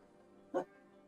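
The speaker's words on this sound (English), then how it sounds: "I think he's just barking at the neighbors." A single short dog bark, close and fairly loud, over a quiet background hum.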